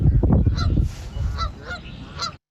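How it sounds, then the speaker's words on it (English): Recorded Canada goose honks, a few loud nasal calls repeating over low rumbling background noise, ending abruptly. "And it's the Canada goose, right?"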